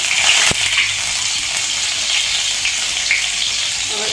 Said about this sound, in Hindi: मिर्च डाल दूँगी